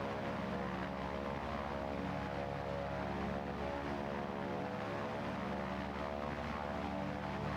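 Propeller training aircraft engine drones steadily and loudly during the climb after takeoff, a continuous buzzing hum with layered harmonic tones that hold the same level throughout, heard from inside the cockpit with no talk.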